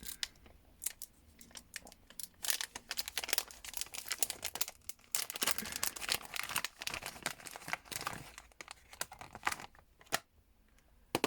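A new translucent, thick, fairly heavy pen is unwrapped by hand, with dense crinkling and tearing of plastic packaging and sharp clicks and rustles, close and fairly loud, coming in irregular bursts with a few brief pauses.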